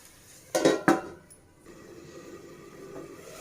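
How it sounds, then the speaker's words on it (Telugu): A lid is set on a pot of tomatoes cooking for tomato pachadi: two sharp metallic clanks close together, then a soft, steady low simmer with no talking. "మూత పెట్టేసుకుందాం."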